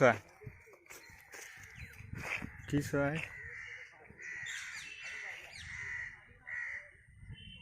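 A crow caws loudly several times close by at a zoo in Assam, harsh calls repeating over rustling and faint background voices.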